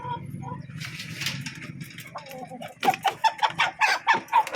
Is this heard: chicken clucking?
yes